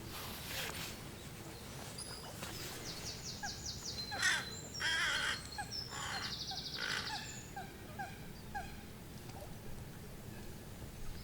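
Crows cawing at sunrise, a run of repeated harsh caws from several birds mixed with a few brighter chirps, moderately close over a steady outdoor background hiss, with no talking.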